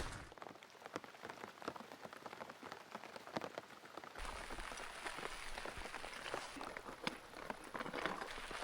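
Heavy rain pours steadily onto a hiking trail in New Zealand, a dense hiss of drops that grows louder and fuller partway through, with no voices.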